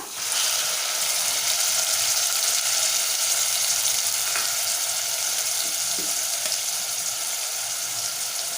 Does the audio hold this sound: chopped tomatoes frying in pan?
yes